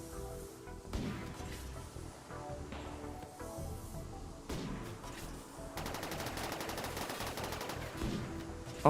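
Rapid automatic gunfire from a video game hammering a ship core, continuous bursts of shots with crashing impacts that thicken toward the end, loud and close.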